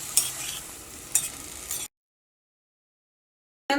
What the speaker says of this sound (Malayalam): നമ്മൾ മിക്സ് ചെയ്തിട്ട് മൂടി വയ്ക്കുകയാണ്.